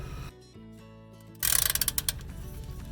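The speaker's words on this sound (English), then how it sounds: "I'm going to go ahead and get this oil pan drain bolt loose" A ratchet loosens the oil pan drain bolt on a car during an oil change, a rapid run of close, loud mechanical clicks after a low hum, with no talk.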